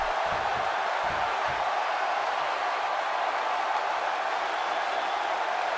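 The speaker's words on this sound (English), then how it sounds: "Another electric crowd on hand here for SmackDown, as has been the norm over the years." Dense, steady roar of a cheering arena crowd at a WWE 2K17 SmackDown wrestling match, a continuous wash of noise filling the whole stretch, with a few low thumps near the start.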